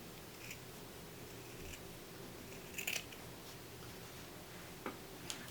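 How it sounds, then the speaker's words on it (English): Scissors slowly cutting through two layers of felt around a shamrock shape, faint soft snips and small clicks spaced out over a quiet background. "I'm going to cut out these last 2 at the same time. So just very slowly cutting around that shamrock shape."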